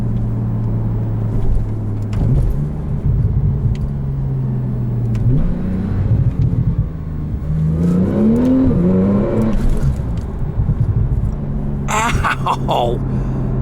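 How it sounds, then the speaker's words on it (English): A 2014 Porsche 911 Turbo S pulling hard from inside the cabin, a steady engine drone with rising turbo whine and whooshing surges, fairly close and loud, with people talking and exclaiming over it. "You can absolutely hear the turbos behind you."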